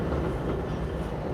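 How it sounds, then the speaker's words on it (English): A New York subway train in Brooklyn rumbles past, caught through an open car window as a brief, steady low roar with no clear voices. "You hear this? You can hear the subway"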